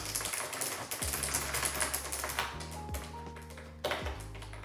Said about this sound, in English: I got this little cute keyboard. Listen to the sound.